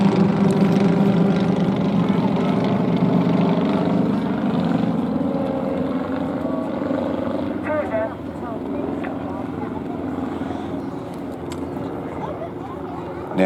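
Propeller aircraft of the Turbulent Display Team fly in formation at the Midlands Air Festival, a steady droning engine hum from some distance that fades slightly over time, with a commentator talking over it.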